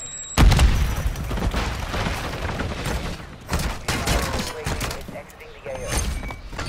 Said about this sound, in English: Semtex incoming!